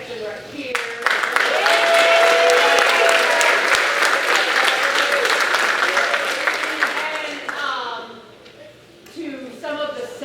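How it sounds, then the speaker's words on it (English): A school spring concert audience applauds the bass section, a loud sustained wash of clapping with a few cheers, fading near the end as a voice comes in over it. "I also like to give a little round of applause to my little bass section right here"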